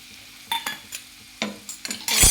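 A spatula scraping and tossing chow mein with shrimp in a pan, several sharp stirring scrapes and clinks over a faint sizzle, ending in a louder burst of frying.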